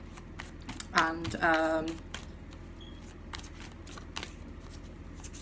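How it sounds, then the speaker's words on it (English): Tarot cards are shuffled close up with soft riffling and slapping bursts as a few cards drop out, while someone speaks briefly over the handling. "We'll let a few cards fall out,"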